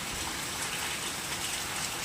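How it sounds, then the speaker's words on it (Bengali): Heavy nighttime rain pours down steadily, a dense continuous hiss of drops hitting surfaces with no breaks, close and fairly loud, with no voices. "দেখতে পাচ্ছেন কি জোরে নেমেছে বৃষ্টি, চারিদিকে আমাদের জল জমে যাচ্ছে।"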